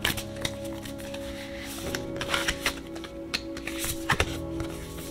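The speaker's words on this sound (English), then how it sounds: "so let's go ahead and shuffle" A tarot deck is shuffled by hand, producing rapid papery riffles and taps in irregular bursts over a low steady background hum, with no voices.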